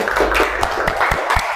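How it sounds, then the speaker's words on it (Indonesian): Children clapping their hands in a classroom at the end of a lesson: a scattered run of sharp claps over steady room noise, fairly close. "Tepuk tangan dulu."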